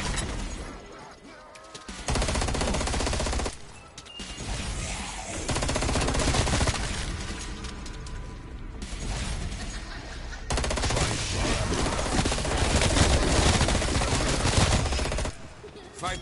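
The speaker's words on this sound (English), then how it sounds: "Equipping assault rifle." A Sturmgewehr assault rifle fires in long, rapid automatic bursts in a shooter game, loud rattling volleys broken by short pauses, with a brief voice in between.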